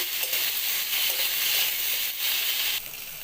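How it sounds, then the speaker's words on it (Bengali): Eggplant, potato and carrot frying in a pan with salt and turmeric: a dense, continuous close sizzle with slight shifts as the pieces are stirred. "দিয়ে দিচ্ছি বেগুনগুলো একসাথে সবজিগুলো ভেজে নিচ্ছি"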